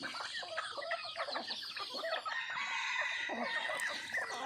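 Backyard chickens, including yellow mixed-breed birds, cluck and crow together in a steady, busy chorus that fills the whole stretch, close and fairly loud.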